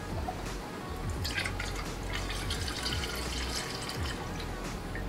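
Wine streaming from a bottle through a wine pourer into a cup, a steady continuous liquid trickle and drip that runs the whole time at moderate volume, with no voices.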